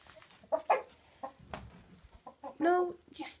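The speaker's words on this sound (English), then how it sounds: "No, you stupid chicken." An aggressive rooster clucks and squawks outdoors in short bursts, fairly close, with a louder drawn-out call near the end, while someone talks intermittently over it.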